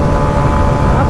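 A 125cc motorcycle engine roars steadily during a drag race as the rider shifts gear, a brief, loud and continuous drone with wind rush.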